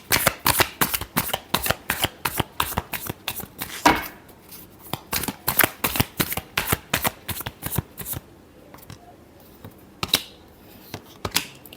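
Tarot cards are shuffled by hand in a rapid run of crisp riffling flicks, close and loud, with a brief pause before a second, looser burst of shuffling; no talk.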